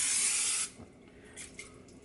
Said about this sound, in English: I'm just spraying my pan with some non-sticking spray, non-stick cooking spray